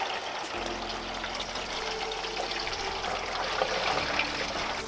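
Steady rushing water flowing down the pipes and bends of a first flush rainwater system, a continuous moderate wash with no talking.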